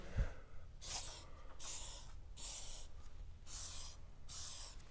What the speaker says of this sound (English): we're gonna take a garage door lube and we're just gonna spray this gracefully